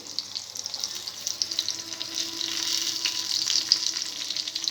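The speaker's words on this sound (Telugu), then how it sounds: "పచ్చిమిరపకాయలు కొద్దిగా ఫ్రై అయిన తర్వాత ఇందులో టమాటో ముక్కలు" Green chillies and tomato pieces frying in a pan give a steady, continuous sizzle with a soft crackle that swells slightly toward the end, with no voices.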